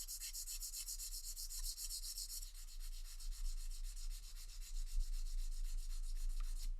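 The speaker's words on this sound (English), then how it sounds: "I'm going to take a 1000 grit of sandpaper and just" Fine 1000-grit sandpaper is rubbed lightly over a water-gilded icon surface, making a steady, soft, close scratching hiss that continues throughout with no talking.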